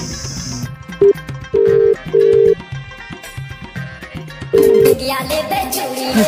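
A phone rings with repeated short electronic tone bursts, sounding over a busy background of music-like tones.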